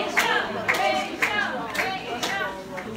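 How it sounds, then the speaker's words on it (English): A small group claps during an online class, the claps falling in a slow, regular beat of sharp hand strikes. Children's voices and chatter mix in with the clapping. "applause for Rachel the cat!"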